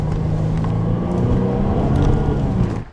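A 2013 Jaguar XF AWD slides across an icy autocross course, its engine humming steadily nearby with tire and road noise for a few seconds before fading at the end.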